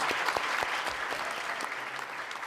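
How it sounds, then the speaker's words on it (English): An audience at a U.S. naturalization ceremony applauds the new citizens with full, even clapping from start to finish, close and loud, with no talk over it. "Let's have a round of applause for our new citizens."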